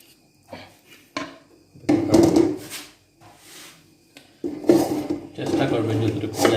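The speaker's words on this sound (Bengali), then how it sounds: "এখন আমি এই পেঁয়াজগুলো ঢেলে দেব।" Browned, slightly burnt fried onions are tipped into a pot for a dal and vegetable dish, producing two loud bursts of hissing, clattering spill with quieter rustling between them.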